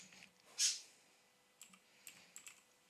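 Computer keyboard being typed on, a faint scatter of light clicks in an irregular rhythm after one louder tap near the start, with a quiet background.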